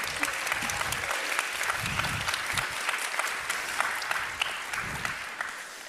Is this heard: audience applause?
yes